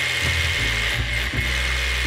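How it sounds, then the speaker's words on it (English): Power drill bolting a limestone tufa climbing route, a continuous high whine with repeated lower grinding pulses and stutters as it bites, heard close and steady for about two seconds. "Bolting the obvious part right now, between those two big tufas around me."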